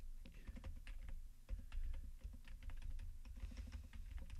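Rapid, uneven clatter of keys on a computer keyboard being typed on steadily at close range, with no talking over it.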